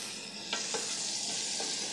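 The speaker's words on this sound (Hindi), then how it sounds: "इसकी हम थोड़ी सी भुनाई कर लेंगे" Goat trotters and meat sizzle in a hot pan with garlic for a Bakra paye recipe. Steady loud frying hiss throughout, with a few sharp stirring scrapes, no talking.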